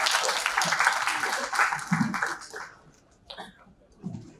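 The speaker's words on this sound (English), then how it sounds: "A loud round of applause seems to be in order." A broad burst of applause fills the first half, dense and steady, then fades out, leaving a few scattered sounds and murmurs.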